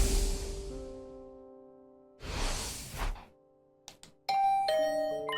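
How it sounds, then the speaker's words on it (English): A doorbell rings in The Hundred Line: Last Defense Academy game, two soft whooshing swells followed by bright chiming tones that ring out clearly near the end, alone without voices. "Was that my doorbell?"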